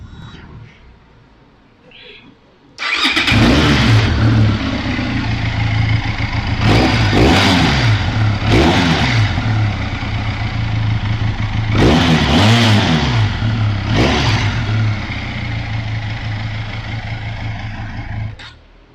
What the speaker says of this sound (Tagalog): parinig ko sa inyo yung sound ng exhaust. Yan, pakita ko sa inyo ha. So, start natin.